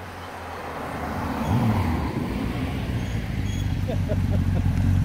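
A vehicle approaches on the Transalpina mountain road in Romania, its engine rumble swelling steadily from moderate to loud over a few seconds, with traffic noise and a brief voice in the background.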